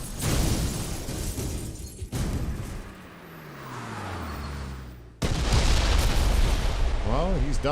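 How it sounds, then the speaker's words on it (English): Fireworks burst in a James Bond video game with several booming, crackling blasts, a loud one at the start and a dense burst near the end, around a quieter rumbling stretch. "Did you know there were going to be fireworks?"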